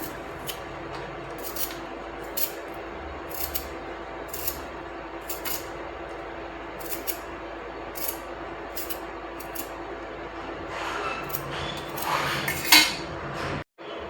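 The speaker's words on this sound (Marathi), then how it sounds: "इथं आपण कच्च्या बटाट्याची साल काढून घेऊया." Raw potatoes are peeled with a rhythmic run of short scraping strokes, about a dozen close and distinct, with a few clinks of metal and a rustle near the end.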